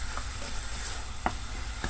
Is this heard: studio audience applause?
no